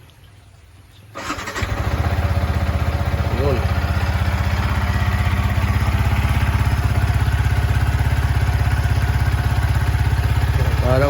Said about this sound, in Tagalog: sound check natin yung ating motor